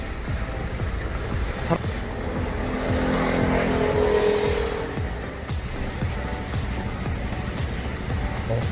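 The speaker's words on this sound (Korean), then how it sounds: "갑자기 비가 많이 오네 많이 내리네" Heavy rain pounds steadily on a moving car at night, heard from inside the cabin as a dense, continuous roar over the low hum of the engine and road noise, with no pauses.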